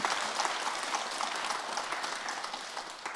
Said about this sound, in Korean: 박수 한번 치고 합시다.